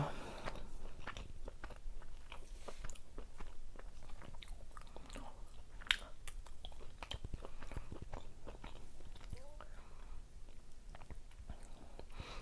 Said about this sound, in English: I'll chew and think.